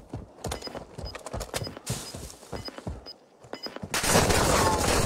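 A video game plays rapid bursts of gunfire, quick rhythmic shots repeating over several seconds, followed by a louder burst of noise at the end, with players talking over it.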